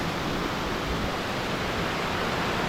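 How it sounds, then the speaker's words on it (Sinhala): Bomburu Ella waterfall near Nuwara Eliya roars as a steady, dense broadband rush of falling water, unbroken and fairly close, with no voices over it. "මෙතනින් පස්සේ තමයි ඇල්ල වැටෙන තැන තියෙන්නේ"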